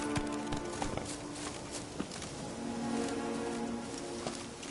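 Geralt's horse Roach gallops in The Witcher 3, steady hoofbeats drumming under a busy ambient game backdrop with occasional bird calls, moderately quiet and continuous.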